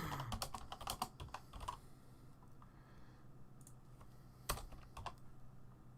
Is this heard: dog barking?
no